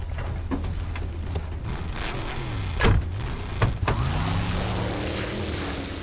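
A vehicle rolls in during the shooter Call of Duty Advanced Warfare, a steady low engine hum running throughout with a couple of short mechanical whooshes and thuds midway, under faint game ambience.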